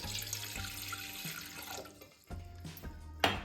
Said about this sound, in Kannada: ಈಗ 1 ಗ್ಲಾಸ್ ನೀರು ಒಂದು ಡಬ್ರಿ ಗ್ಯಾಸ್ ಮೇಲೆ ಇಟ್ಕೊಂಡು